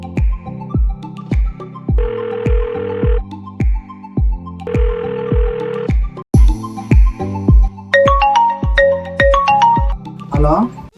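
A phone ringing tone on an outgoing call, loud repeated electronic tone bursts in a steady pattern, with a brief shift to a different melodic ring toward the end.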